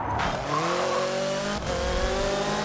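Handbrake slide in the video game Forza Motorsport 7 during a gymkhana run: a loud, steady tire squeal with a wavering, rising pitch over a running engine, with no voices.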